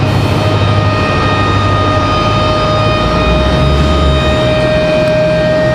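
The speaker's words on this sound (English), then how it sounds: "Sounds like we got a little air starter action happening down here on JetBlue." A JetBlue airliner, an A220-300 or similar, sits at an airport gate while an air starter spins up its jet engine, producing a loud, steady whine with sustained tonal hum over a rumbling low roar.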